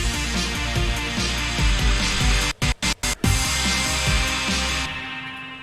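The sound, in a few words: song buildup with master volume cuts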